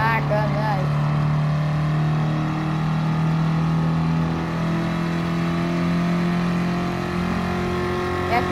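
A 1965 Sports 800 car engine races at a steady, loud drone with a sustained low hum, holding close and continuous throughout a race against another car.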